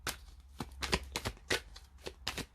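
Tarot cards from a Rider-Waite deck are shuffled by hand close up, a quick series of about eight crisp riffling bursts in an uneven rhythm, quiet and with no voices.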